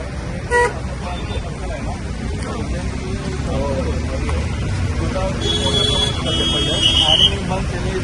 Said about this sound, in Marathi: तीन दोन ते तीन किलोमीटर ट्रैफिक है